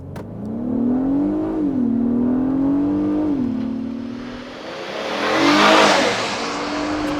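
A 2022 Acura MDX A-Spec with a 3.5-liter V6 accelerates hard from inside the cabin, its engine note climbing through gear changes and then swelling with rising road and wind noise.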